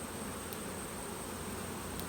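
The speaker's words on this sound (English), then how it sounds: "We've got a fair few field bees still in the hive" Honey bees humming steadily at an open hive in a single brood chamber, a dense, continuous buzz of many insects close by with no talking.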